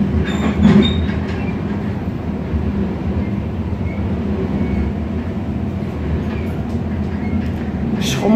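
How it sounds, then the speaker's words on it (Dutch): Inside a moving train, a steady rumbling roll of wheels on track with faint rattles and a brief squeal near the start, continuous and close. "Zo, in de trein met Blue."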